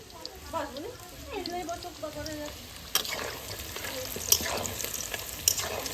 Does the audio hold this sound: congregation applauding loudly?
no